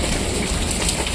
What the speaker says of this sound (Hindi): यहाँ पे इतनी तेज बारिश हो रही है